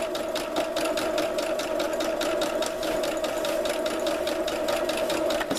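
A sewing machine runs continuously while stitching tutu fabric on a long stitch, with a fast, even mechanical chatter that stays close and steady throughout and no talking.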